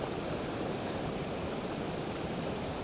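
Continuous rushing of a mountain creek tumbling over cascades in California's High Sierra, a loud, steady broadband wash of water heard close with no talking.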